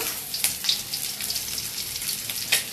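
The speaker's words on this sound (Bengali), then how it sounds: "আমি এখন মাছ ভেজে নিচ্ছি এই দেখো" Morla fish frying in a pan gives a dense, steady hiss of hot oil with bursts of crackling spatter, close and continuous throughout.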